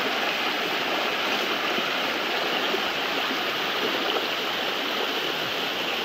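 A forest stream rushes steadily over rocks, a continuous close, full-bodied wash of flowing water that holds an even loudness throughout with no voices.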